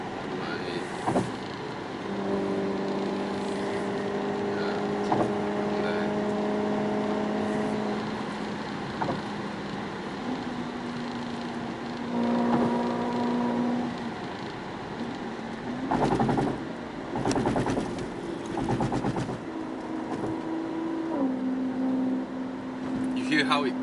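A car's engine rises and falls in pitch as it shifts through gears while driving, with some wind noise and people talking inside the cabin throughout.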